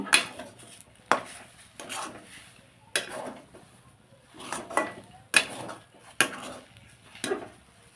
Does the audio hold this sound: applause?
no